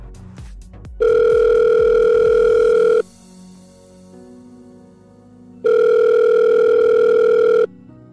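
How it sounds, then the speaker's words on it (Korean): Two loud, steady telephone tones, each about two seconds long, separated by a quieter steady hum, heard alone at the start of a phone call being played back. "오늘은 전화통화 하나 들으면서 시작해볼까요?"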